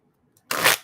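A deck of tarot cards gets one quick, crisp riffle shuffle at close range, a short burst of papery flutter after a moment of near silence.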